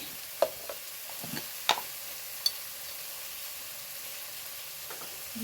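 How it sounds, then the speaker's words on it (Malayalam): Softened onions with black pepper powder frying in a pan for a chicken dish, a soft, even sizzle with several distinct spoon scrapes and clinks against the pan. "നമ്മൾ ഉള്ളി വാടി കഴിഞ്ഞു ഇനി ഇതിലേക്ക് ഞാൻ ഇടുന്നത് കുരുമുളക് പൊടിയാണ്"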